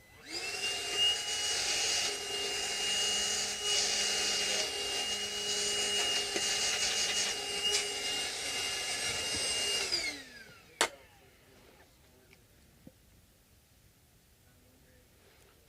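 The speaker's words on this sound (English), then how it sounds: "I have this nice shop vac. And just vacuum up the" A shop vac runs steadily and loudly, sucking up white powder left from sanding while removing the nut from a Fender Jazzmaster guitar, then cuts off and spins down, leaving near silence with a few small clicks.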